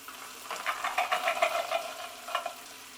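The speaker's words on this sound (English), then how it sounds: "Give them a good stir." Drained black beans get stirred into a spicy sauce of wilted chard, a run of soft wet scraping and squelching strokes close by, pausing briefly before a final pair of stirs, no talking.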